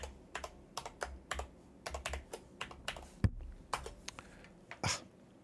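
A password is tapped out on a computer keyboard in irregular bursts of crisp key clicks, close to the microphone, with short pauses between groups of keystrokes and no talking.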